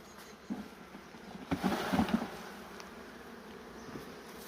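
Carniolan honey bees buzz around hive frames in an apiary, a continuous close insect drone that swells briefly in the middle with faint handling noises.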